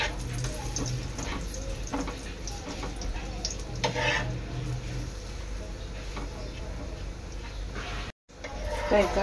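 A moringa paratha fries with ghee on a pan, giving a soft continuous sizzle with occasional scraping and stirring sounds, fairly quiet and close, with a brief dropout near the end.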